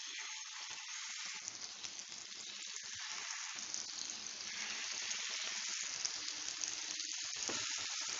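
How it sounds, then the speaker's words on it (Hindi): Reshmi kebabs fry in hot oil on a griddle over a medium flame, a steady, close, crackling sizzle that continues throughout without speech. "देखिए कबाब हमारे कितने अच्छे से फ्राई हो रहे हैं।"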